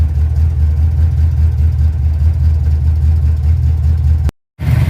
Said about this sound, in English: it immediately started and it stayed running and is idling and warming itself up